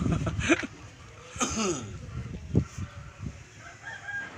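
A chicken clucks and calls nearby in a few short bursts, with faint voices and outdoor noise underneath.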